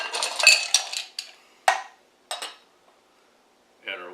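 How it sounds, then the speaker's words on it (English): Ice cubes clatter into a metal cocktail shaker in several sharp, close rattling bursts, followed by a few separate clinks and a brief scrape. "load our shaker with ice"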